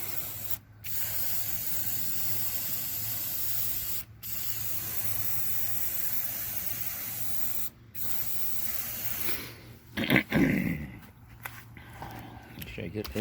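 Water from a hose rinses degreaser off a dirty lawn mower intake hose, a loud continuous spray cut by three brief stops. Near the end the flow gives way to irregular splashing and handling sounds, with a voice briefly present.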